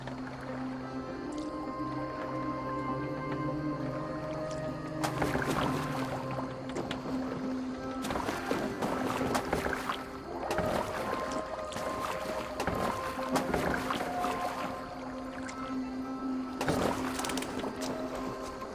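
Boat moving through water in the video game Assassin's Creed Valhalla: repeated splashing and sloshing surges of oar strokes over a steady droning background, moderately loud and without talk.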